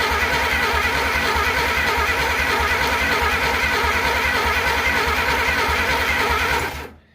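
Starter motor on a 1947 Plymouth cranks the engine continuously with a fast rhythmic chug, loud and close, never catching, then cuts off abruptly near the end.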